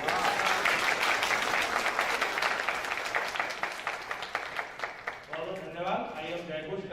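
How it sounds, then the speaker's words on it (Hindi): An audience at a Guru Purnima gathering claps for two children, a loud burst of applause that thins out over several seconds as a voice begins speaking. "और ये 2 बच्चों के लिए जोरदार तालियां।"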